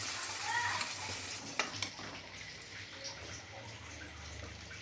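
Tomato paste fries in oil for a jackfruit curry with a soft, quiet sizzle. A few light stirring scrapes and clicks sound against the pan.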